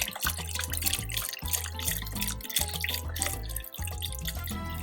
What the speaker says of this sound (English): I'm going to add another container box of chicken broth